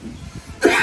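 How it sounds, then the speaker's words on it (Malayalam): A single sharp cough bursts out near the end of a brief, quiet moment indoors, close to the microphone. "ചുമ ഉണ്ടോ?"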